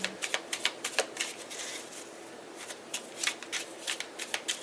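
Tarot cards being reshuffled by hand, giving close, soft riffling flutters and quick papery slaps in irregular bursts, fairly quiet, with no talk.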